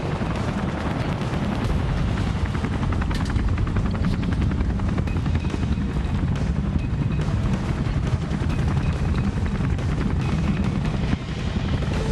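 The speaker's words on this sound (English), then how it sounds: "The pilot is flying with great precision to maintain airspeed and hovering just 3 meters above the waters to execute the helocast operation." A military helicopter hovering about three metres above the water for a helocast insertion of special forces at a National Day Parade: a loud, continuous, close rotor roar with rapid blade chop and dense downwash noise throughout.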